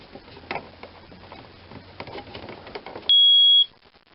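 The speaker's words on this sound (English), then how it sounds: "I've got my smoke detectors. Probably should test them." After a few seconds of quiet clicks and rustling, a single loud, piercing electronic beep sounds for about half a second, then stops.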